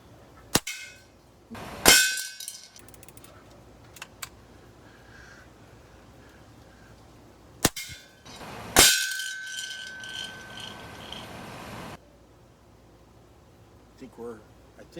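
Benjamin Marauder .22 air rifle firing pellets into a heavy Coleman can at 20 yards from a lead sled: two sharp shots, each followed by a bright metallic clang with a short ringing tail, amid quiet outdoor background and occasional voices.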